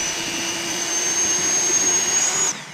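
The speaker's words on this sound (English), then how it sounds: "now we're going to use the Dremel to do some polishing" A Dremel rotary tool polishing a carved statue gives a steady high-pitched whine that holds for about two and a half seconds, then stops abruptly.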